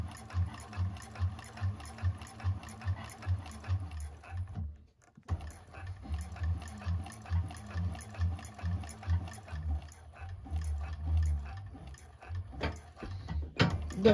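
A 1341 cylinder-arm sewing machine stitching a bag runs in fast, steady bursts of close rhythmic needle strokes, pausing briefly midway before resuming with a few scattered clicks near the end.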